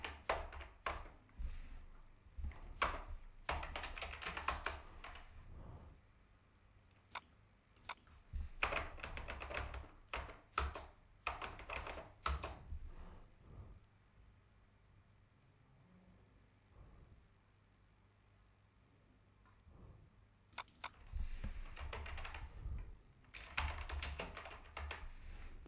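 Fingers type on a computer keyboard in quick bursts of soft, close clicking, pausing for several seconds midway before another flurry of keystrokes, with no talk.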